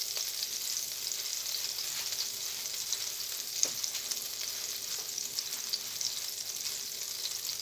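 Veal fat sizzling in a frying pan, a dense continuous hiss at close range with a faint click midway and no talking.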